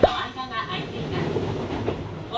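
Train rolling along rails in Osaka, a steady rumble with faint clicking wheel noise running throughout, mixed with ambient chatter in the carriage.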